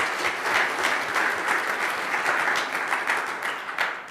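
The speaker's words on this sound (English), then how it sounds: "So huge round of applause to Square Roots Collective for making tonight possible." An audience at an evening speaker-series event claps steadily and densely, a continuous wash of applause holding for several seconds, with no speech over it.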